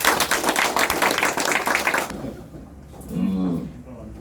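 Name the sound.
audience applause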